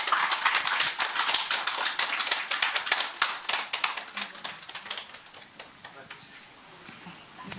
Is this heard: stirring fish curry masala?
no